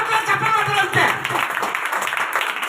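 A church congregation clapping hands loudly together, dense steady applause lasting throughout with a voice talking over it.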